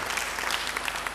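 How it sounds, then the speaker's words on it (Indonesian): A church congregation claps briefly in a short, even burst of applause at moderate volume. "Beri tepuk tangan yang baik buat dia"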